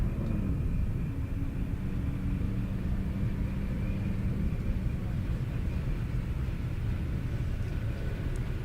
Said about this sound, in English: Little Corvette on Mustang action.